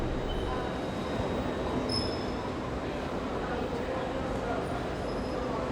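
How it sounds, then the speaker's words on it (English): A Class 387 commuter train terminating at Reading station, a steady broadband rumble of the train at the platform holding a constant level, with faint high whines and tones over it and no clear talk. "Here we have a Class 387 terminating at Reading."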